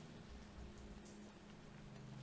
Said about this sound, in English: The rain sounds is really aesthetic.